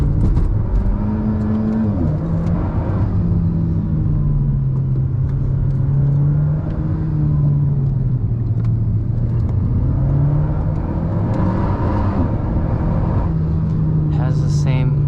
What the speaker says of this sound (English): This engine kind of reminds me of the engine in the Evo.